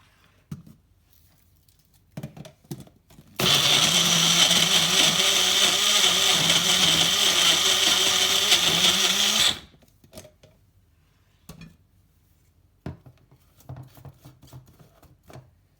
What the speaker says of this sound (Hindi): आधी टीस्पून ज़ीरा, अब इसको भी ग्राइंड कर लेते हैं